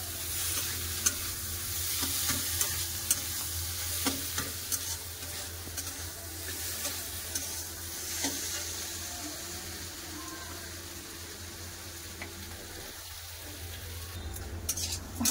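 Spiced soybean chunks stir-fried in oil in a pan for a soybean curry, giving a steady, close sizzle with scraping stirs throughout, no voices over it.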